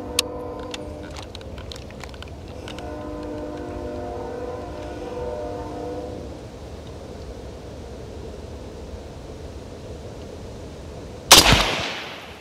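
A single sharp rifle shot cracks loudly near the end at a US Marines firing range, breaking a long stretch of steady outdoor background hum and a wavering tone.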